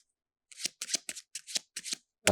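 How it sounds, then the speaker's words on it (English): Playing cards are riffled in a quick series of about seven crisp, fluttering bursts, close up, with a louder snap at the end. "Like if I were to shuffle these cards,"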